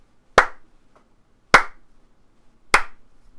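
Three slow, deliberate hand claps, evenly spaced about a second apart, sharp and close with quiet gaps between them.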